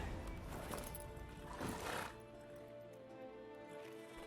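A horse in The Witcher 3: Wild Hunt gives a loud, shaky whinny that rises and trails off over about two seconds, followed by a quieter, steady background.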